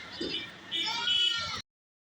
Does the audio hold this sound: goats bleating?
yes